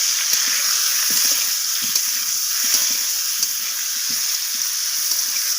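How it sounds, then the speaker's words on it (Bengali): Cauliflower frying in hot oil with turmeric and salt, a steady loud sizzle with small bubbling pops and occasional utensil taps, close and continuous, no talking. "তো এরপর আমি ফুলকপিটাকে লালচে করে ভেজে নেব।"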